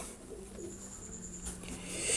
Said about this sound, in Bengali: পিওর অরিজিনাল লাখা কবুতর